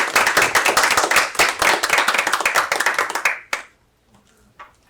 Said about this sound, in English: So I want to applaud Rachel for her good work.